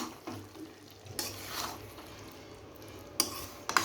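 Tomato chicken curry frying in a pan as a spoon stirs it, with a soft sizzle, some scraping and a few sharp clinks of utensil against metal near the end.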